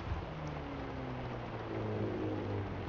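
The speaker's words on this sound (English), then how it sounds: "Of course it has to be raining on my special dome." Steady rain hisses down in the Forza racing game, a continuous wash of patter layered over the low drone of a car engine, holding even throughout.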